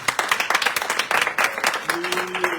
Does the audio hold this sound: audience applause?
yes